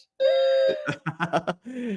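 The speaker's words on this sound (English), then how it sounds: "She's got a fire alarm over in university." A fire alarm sounds in a university building, a loud sustained electronic tone followed by rapid pulsing bursts and another long tone, heard close and clear with no talk over it.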